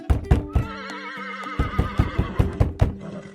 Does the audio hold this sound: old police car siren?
no